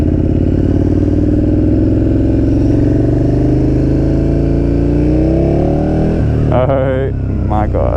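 A KTM 1290 Super Duke R motorcycle engine drones loudly and steadily up close, its pitch climbing as it gets under way, with a voice breaking in near the end.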